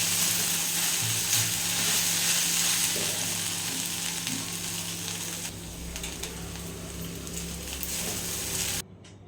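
Okra being stir-fried for vendakka thoran in a pan, a steady close sizzle and frying crackle with a few soft stirring scrapes, running alone without talk before cutting off near the end.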